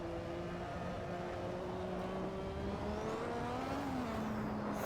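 A McLaren MP4/4 turbo Formula 1 car in Assetto Corsa at Spa holds a steady engine note, then the pitch swells in a quick throttle blip toward the end before settling again.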